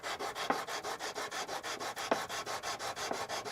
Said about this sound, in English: I'm sanding this piece up through the grits, and I'm going to stop at 320 grit.